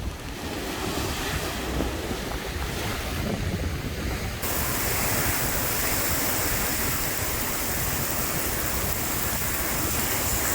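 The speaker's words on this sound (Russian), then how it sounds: "смотрите, какие волны" Sea waves surge and break continuously on a Black Sea beach at Tuapse, a loud, steady roar of surf with gusty wind rumbling on the microphone and no voices.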